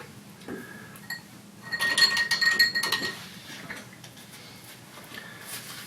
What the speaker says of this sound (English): Clean our brush out.